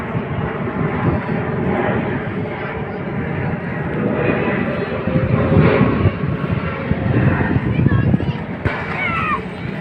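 An airplane passes low over London on approach to Heathrow Terminal 5, a steady, loud broadband roar of jet engines that swells and lingers for the whole stretch, with faint voices and street noise underneath.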